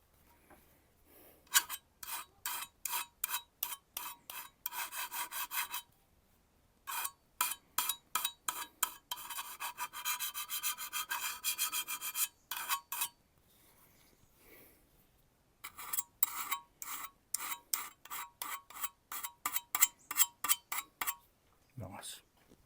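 A Choco Bocho knife is stroked across a super fine finishing stone, giving close, rhythmic rasping scrapes in quick runs separated by short pauses, with a clink at the end.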